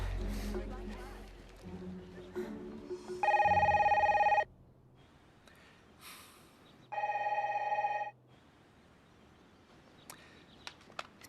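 A telephone ringing during a call, two bursts of loud electronic trilling ring about three seconds apart, with a voice speaking quietly before and between them.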